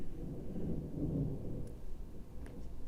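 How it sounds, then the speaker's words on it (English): Distant thunder from a storm rumbles low and steady for a few seconds, a soft continuous roll with no distinct crack, heard alone without talk. "That is thunder."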